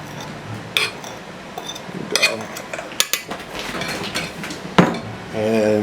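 Flour mixture tipped into blueberry cake batter in a mixing bowl, with scattered clinks and taps of a utensil against the bowl and a soft scraping, close and moderately quiet.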